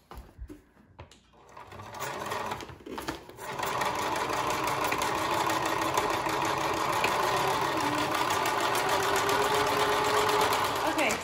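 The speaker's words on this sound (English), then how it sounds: "and then we're going to sew it one more time." A sewing machine runs steadily with cotton thread, stitching a woven grain feed bag into a shopping bag; after a few short starts it settles into a loud, continuous close whir.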